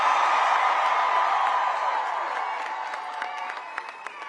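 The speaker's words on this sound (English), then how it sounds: "What an incredible crowd." Large crowd at an Obama campaign rally for Virginia candidate Abigail Spanberger applauding and cheering, a dense wash of clapping and whoops that stays loud and then gradually tapers off.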